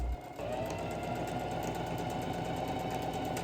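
A sewing machine runs continuously, close and steady, top stitching contrasting tan thread along the seams of a patchwork bucket hat, its fast mechanical chatter starting after a brief pause and holding an even pace.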